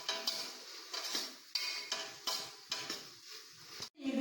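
Tomatoes sautéing in coconut oil in a pan for a goat head curry, stirred in repeated scraping strokes with a steady soft sizzle, close up and with no talking.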